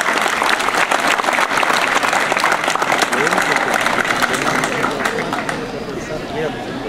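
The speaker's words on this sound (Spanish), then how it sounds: "para quien pido un caluroso y cariñoso aplauso" An audience claps loudly in a dense, continuous burst of applause with a few voices mixed in, holding strong before easing slightly near the end.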